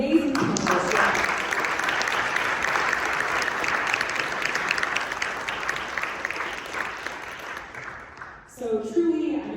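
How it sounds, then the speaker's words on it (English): An audience at a law school panel event gives sustained applause for the panelists, a broad wash of clapping that gradually thins out before a voice begins speaking at the end. "Please give a round of applause to the amazing panelists."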